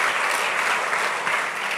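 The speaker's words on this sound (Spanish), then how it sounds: "Santo, démosle un aplauso al Señor." A church congregation applauding the Lord during a sermon, dense and fairly loud clapping from a crowd sustained for a couple of seconds.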